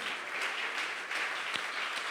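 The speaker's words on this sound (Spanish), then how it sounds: "Démosle un fuerte aplauso al Señor Jesús." A crowd claps in a steady, fairly distant patter of applause, continuous for a couple of seconds.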